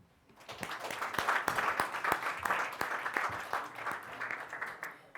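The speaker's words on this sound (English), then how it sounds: "And so I'd like you all to give a round of applause for Susan" An audience applauds after a speaker is introduced at a talk, steady crowd clapping with sharp individual claps standing out, building quickly and sustained for several seconds.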